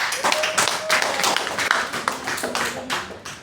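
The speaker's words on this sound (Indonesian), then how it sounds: "Tepuk tangan buat kalian semua." Students in a classroom clap together in a short burst of dense, fairly loud applause, with voices and chatter mixed in throughout.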